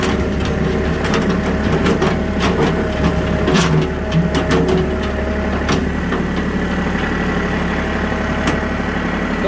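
A Bobcat 610 skid steer runs nearby with a steady loud engine drone, joined by scattered clanks and knocks as it moves across a backyard.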